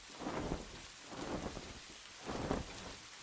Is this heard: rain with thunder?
yes